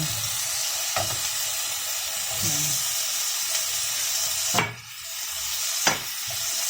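Pork ribs, first blanched clean, are stirred as they fry in a pan with a steady sizzle, and utensil scrapes land near 1, 4.6 and 5.9 seconds. No one talks.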